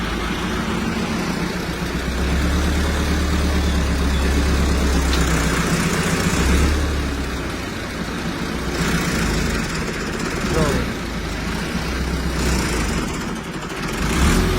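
Tractor engine running steadily in a Punjab maize field, a loud low rumbling drone that idles and lifts slightly in load throughout, with no talk over it.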